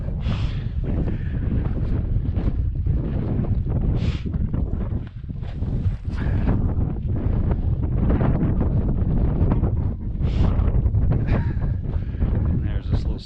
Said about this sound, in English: Oh, that wind's just got me going.